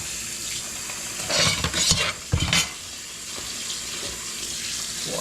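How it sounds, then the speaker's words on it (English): Tap water running into a pot while rice is washed in a home kitchen, a steady hiss with louder splashing surges in the middle as the grains are swirled, close by with no talk. "I'm gonna be washing my rice, and this is how I wash my rice"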